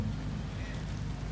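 Rain falls steadily in an even wash of hiss with a heavy low rumble underneath, constant and fairly loud throughout, with no voices.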